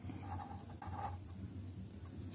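A pen scratches across paper as numbers are written by hand, faint and close, in short strokes with brief pauses between them.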